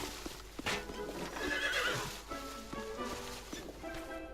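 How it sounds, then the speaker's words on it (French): Horse in the video game Lego Worlds whinnies loudly in a long, wavering call, with clip-clop hoof sounds and ambient game noise around it. "Je vois qu'on a un cheval."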